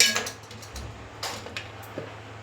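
A kitchen knife chops vegetables for a rajma sambar, a handful of sharp, irregular taps against a cutting board with quiet room noise between them.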